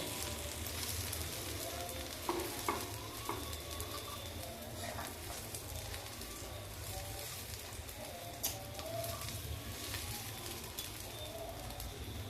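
Egg breakfast frying in a pan, a soft steady sizzle close by with a few light clicks as pieces are flipped, and faint bird coos in the background.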